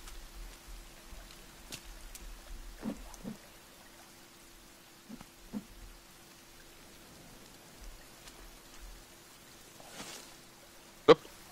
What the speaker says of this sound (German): wir sind mit Regen in die Höhle gegangen und gehen raus und es regnet